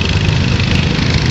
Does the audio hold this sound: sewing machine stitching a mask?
no